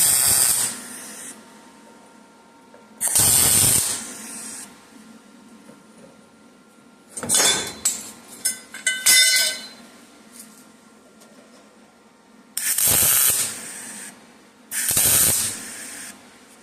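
On a 1968 Dodge Charger, a car body panel is tack welded with a series of short, loud hissing, crackling bursts separated by quiet gaps, some bursts sputtering and uneven.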